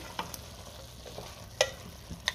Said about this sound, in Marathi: आता पुन्हा सगळं व्यवस्थित मिक्स करून घेते